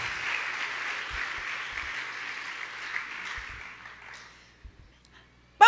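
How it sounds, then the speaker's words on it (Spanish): Church congregation applause at a sermon, a faint, steady wash of clapping that thins out and fades after about four seconds, ending in a few scattered claps. "Vamos, dale un fuerte aplauso"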